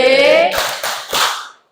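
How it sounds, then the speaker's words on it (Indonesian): Audience applause with hands clapping in a classroom-style gathering, a dense burst of claps after a sustained tone, fading out within under two seconds. "Ya, tepuk tangan."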